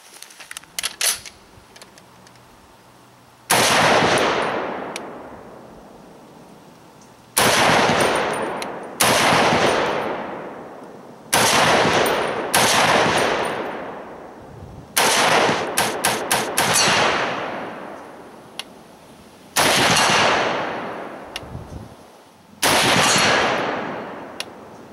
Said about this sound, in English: now what we're shooting is the NATO 308 round